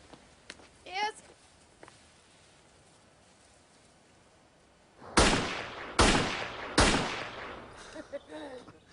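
Three loud, sharp gunshots ring out about a second apart, each with a short decaying tail. They come after a quiet stretch with faint voices talking.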